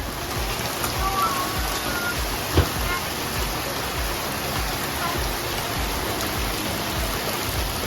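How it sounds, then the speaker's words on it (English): Steady rain falls outdoors onto a backyard deck under construction, a dense, even patter of drops with one brief louder knock partway through. "Rain."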